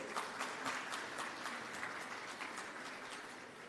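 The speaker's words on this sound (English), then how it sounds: "So please, let us start with a round of applause." A conference audience at a data privacy event claps to open the session, a soft, distant wash of applause with separate claps standing out, steady in level.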